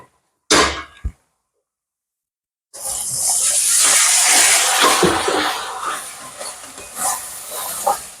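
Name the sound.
masala sizzling as a little water is added while cooking chicken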